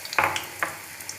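Eggplant (brinjal) pieces sizzling in a kadai, with soft crackling bursts and a couple of sharper spits over a steady low frying hiss, close and fairly quiet.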